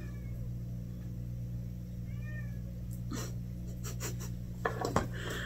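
An indoor cat meowing a few times, faint and somewhat distant, over a steady low electrical hum, with light rustling and tapping noises near the end.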